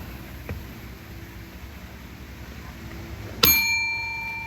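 A call bell on a game table, pressed once in an emoji guessing game, gives a single bright ding that rings on and fades out over a quiet room hiss.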